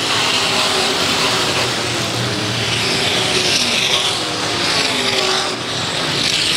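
IMCA Modified race cars roar around Ionia Raceway Park in 2002, a loud continuous blend of engines with swelling passes as the pack circles the track, with no voices over the noise.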